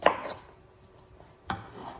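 A knife chops through banana stem in a home kitchen: two sharp, close chops about a second and a half apart, with quiet between them and no talking.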